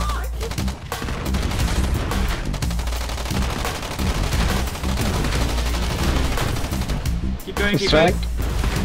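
Dense bursts of automatic and single-shot gunfire rattle almost nonstop in a Foxhole battle, loud and close, while players call out to each other over the shooting.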